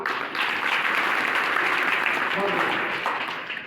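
A crowd at a kirtan (devotional discourse) claps together in a dense, steady burst of applause lasting several seconds, with voices mixed in underneath.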